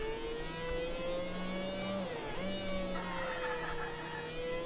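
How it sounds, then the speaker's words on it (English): A steady mid-pitched car engine hum in a video game that rises and dips slightly, with a thin buzzy, lawnmower-like drone and faint whirring overtones throughout. "I wonder what kind of engine my car's got. It sounds like a lawnmower."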